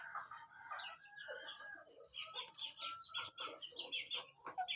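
Shamo and native chickens in a backyard cluck and call in quick overlapping bursts, close and fairly quiet, with a short crowing-like phrase among the chatter.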